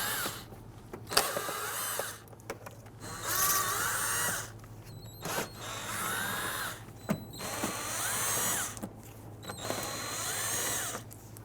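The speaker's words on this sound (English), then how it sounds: "On the rearward portion of the fender liner is going to be a series of T20 screws going up the inside. Loosen and remove those." Cordless power drill spinning out T20 screws from the rear of a 2008-2017 Buick Enclave front left inner fender liner, several short whirring bursts with pauses between them, close and moderately loud.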